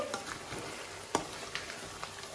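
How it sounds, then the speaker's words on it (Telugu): Ginger garlic paste frying in oil for chicken pickle, a soft steady sizzle with a few sharp stirring scrapes and one louder clack near the middle, close and fairly quiet, no voices. "చూడండి ఇట్లా మొత్తం ఆయిల్లోనే అల్లం వెల్లుల్లి పేస్ట్ అనేది ఫ్రై అయిపోవాలి ఫ్రై అయిపోయింది"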